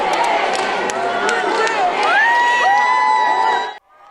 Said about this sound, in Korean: 열차가 내린 울산역 광장에도 지지자들의 함성이 가득 찼고